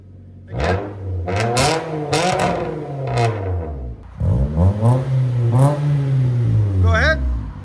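A 2010 Nissan Altima 2.5L inline-four with a straight-pipe exhaust revs repeatedly up close, loud rising and falling pulls with crackling edges, while people talk over it.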